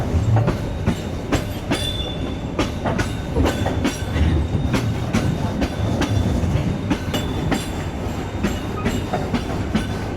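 A long-distance train pulling into Naypyitaw station in Myanmar, with loud continuous rumbling and regular clickety-clack of wheels over rail joints throughout, heard from inside the carriage.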